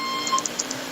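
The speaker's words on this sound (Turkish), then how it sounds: "O zil çaldı." In a Minecraft game, a bell chimes with a few short, bright electronic tones in quick succession over a faint background hum.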